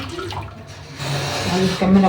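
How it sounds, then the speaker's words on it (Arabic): Hot water is poured into a blender, a rushing, splashing gush that grows fuller and louder toward the end, with someone speaking over it. "هاجي نازله بشفشق الخلاط عشان الخليط اللي انا كنت ضرباه في الخلاط، شويه ميه سخنين اهو"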